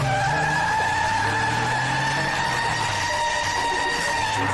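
Tire skidding effect for a Lego tire burnout: a continuous, loud squeal with sustained high tones and an engine drone underneath, steady for several seconds.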